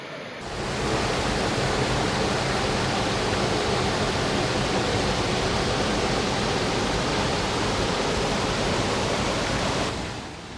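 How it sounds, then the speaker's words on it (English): Horseshoe Falls at Caesar Creek State Park, a waterfall pouring into a shallow wading pool, roars as a dense, steady rush of falling water, loud and close, fading in and out at the edges. "Horseshoe Falls."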